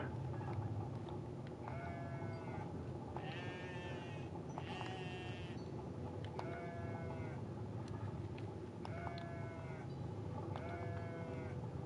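Goats bleat repeatedly in the video game Goat Simulator, a series of wavering, nasal calls that recur at a steady pace over a constant low game background hum.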